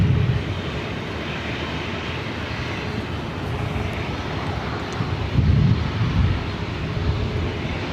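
A Delta Airlines Airbus A321, eight years old, preparing for takeoff on the south side at Los Angeles airport, heard as a continuous jet engine roar with low rumble that swells briefly midway.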